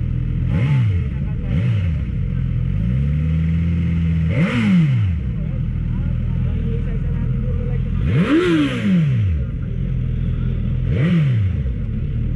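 An inline-four motorcycle engine idles loudly up close and is revved in several sharp bursts, the pitch climbing and falling each time, one long rev midway.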